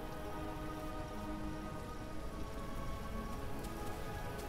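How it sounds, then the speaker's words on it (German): Steady, dense rain falls in a dinosaur video game on a new jungle map, a continuous hiss of drops hitting surfaces with no breaks. "Oh, ich glaube, es fängt an zu regnen."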